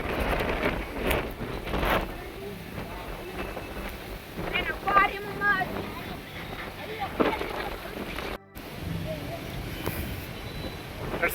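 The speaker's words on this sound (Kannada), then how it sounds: "ಫ್ರೆಂಡ್ಸ್ ಮಳೆ ಬರ್ತಾ ಇದೆ" Steady rain falls outdoors near a temple house at Channagiri fort in Karnataka, a continuous hiss mixed with gusty wind buffeting on the microphone while a person talks over it.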